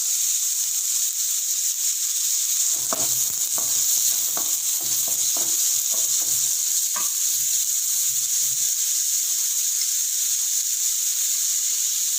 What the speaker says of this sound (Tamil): வெங்காயம் நல்லா கோல்டன் ப்ரௌன் வர வரைக்கும் நல்லா வதக்கணும்.